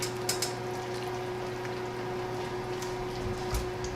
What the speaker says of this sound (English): I'm going to return it to the heat and continue to simmer